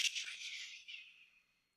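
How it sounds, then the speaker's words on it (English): A sound effect of a lit match falling, heard as a soft, airy hiss that starts brightest and thins out over about a second and a half before fading to silence. "That's the sound of a match falling."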